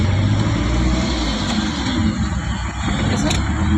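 A car engine pulls away uphill in first gear as the clutch is released slowly, giving a steady low rumble that stays near and loud throughout, with muffled voices in the background.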